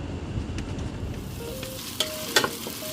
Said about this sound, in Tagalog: nag-iisa muna ako ngayon ng sibuyas, bawang, at luya